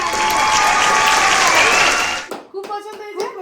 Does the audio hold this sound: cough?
no